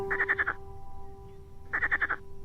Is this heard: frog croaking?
yes